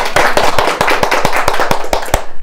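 An audience at a business talk claps in unison, a brisk, regular run of sharp, close handclaps at an even beat, with no talking over them.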